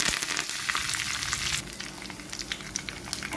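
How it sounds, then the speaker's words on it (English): Mustard seeds, cumin seeds and red chilies sizzle loudly in hot tempering oil for a Hyderabadi toor dal, with crackling pops and spatters over a dense hiss that eases slightly partway through. "And mustard is fluttering. We'll add cumin seeds. To this we'll be adding 4 red chilies."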